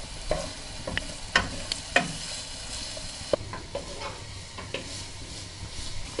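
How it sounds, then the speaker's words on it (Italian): Speck sizzles in a pan with a splash of oil over low heat, a steady frying hiss broken by crisp pops and the occasional scrape of stirring, close up with no voices. "In una padella mettiamo appena un goccio di olio e aggiungiamo lo speck. Facciamo soffriggere a fiamma bassa finché cambierà colore."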